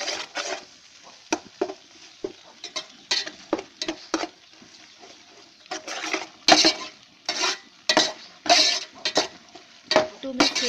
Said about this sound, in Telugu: నెక్స్ట్ 1 స్పూన్ అల్లం వెల్లుల్లి పేస్ట్ వేసుకుంటాం